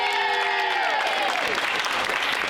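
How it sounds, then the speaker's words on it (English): Theatre cast members applaud a production crew member for a stage show, a loud burst of clapping from a group with a few voices mixed in. "Give her a round of applause!"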